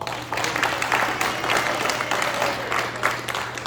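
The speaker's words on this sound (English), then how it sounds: "Let's go ahead and give him a big round of applause." A small crowd applauds at a high school golfer's college signing, steady moderate clapping from a modest group over a low electrical hum.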